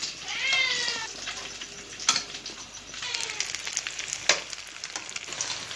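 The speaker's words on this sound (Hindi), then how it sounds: "पलक शामी कबाब फ्राई कर रही है" Shami kebabs fry in a pan with a steady broadband sizzle, broken by a couple of sharp spatters. A cat meows near the start, and a faint stir sounds partway through.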